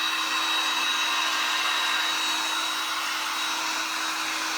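A hair dryer drying paint on a handmade stars and stripes sign, a steady, continuous airy whir with a constant motor tone, running alone without a break.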